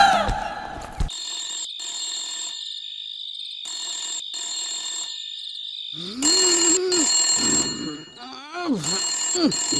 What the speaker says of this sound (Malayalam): സാറേ, ഫോൺ വന്നു.